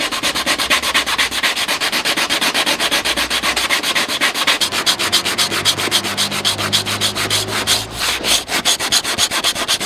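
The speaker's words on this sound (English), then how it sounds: "After a good amount of sanding, that is what we ended up with" Rapid, rhythmic scraping of a sanding block rubbing back and forth over a rusty car body panel, loud, close and continuous throughout.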